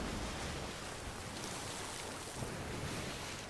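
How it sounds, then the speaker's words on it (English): Ocean waves washing and splashing against a wooden ship at night in the pirate game Sea of Thieves, a steady, soft, broadband rush of water with no voices. "How the waves are, how splashes on the ship."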